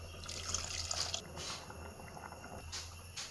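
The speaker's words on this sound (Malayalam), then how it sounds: "പുളി ഒഴിച്ച് കൊടുക്കാം" Tamarind water is poured into a simmering horse gram and colocasia stem curry, a faint, soft trickle and splash of liquid with a few light drips.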